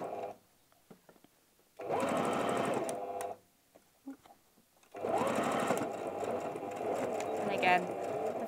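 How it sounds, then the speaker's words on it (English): A sewing machine runs a back stitch to secure binding on a fabric tablet cover, in two steady mechanical bursts, the second longer, separated by a quiet pause, close and fairly loud. "Just going to secure that with a back stitch."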